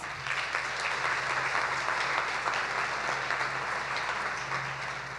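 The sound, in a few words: commencement audience applauding faculty and administrators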